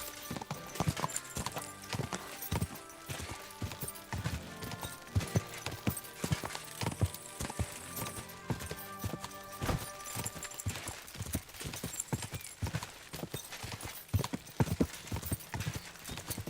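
Steady clip-clopping horse hooves in Kingdom Come: Deliverance II, brisk and rhythmic, with the horse snorting and whinnying in places amid a busy game backdrop.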